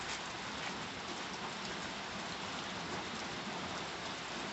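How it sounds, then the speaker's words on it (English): Rain falls outdoors onto a parked car, a steady, dense hiss of drops that carries on unbroken, moderately loud and with no voices over it. "So you can see it's raining fairly good."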